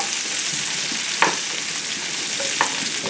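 Pearl onions and mushrooms frying in a pan for coq au vin, with a steady close sizzle and two sharp stirring scrapes about a second apart.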